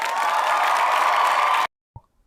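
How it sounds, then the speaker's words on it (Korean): Sustained applause sound effect, dense and steady, plays loud for about a second and a half, then cuts off abruptly, leaving silence with a faint short knock. "일단 이 기간을 견뎌내고 지금까지 오신 분들께 박수를 보내드립니다"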